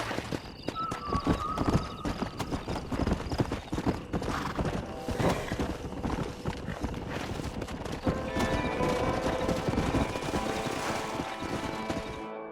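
Horses gallop in a fast, steady clatter of hooves in Red Dead Redemption, loud and close, with an occasional whinny and busy outdoor game ambience around them.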